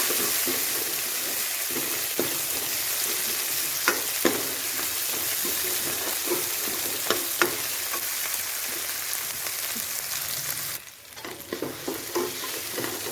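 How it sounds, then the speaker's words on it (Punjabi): Onions already browned and tomatoes just added frying in a pan, a steady close sizzle broken by scraping and stirring knocks, with a brief dip near the end. "ਹੁਣ ਇਸ ਵਿੱਚ ਟਮਾਟਰ ਐਡ ਕਰਾਂਗੇ ਇਹਨੂੰ ਵੀ ਹਲਕਾ ਪਕਾਵਾਂਗੇ"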